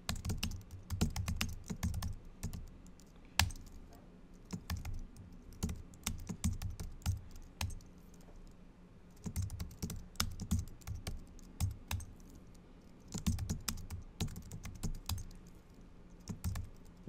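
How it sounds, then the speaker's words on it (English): Fingers type on a computer keyboard while seating area names and ticket prices are entered, giving quick close clicking bursts separated by short pauses, with no voices. "type in the name of your seating areas."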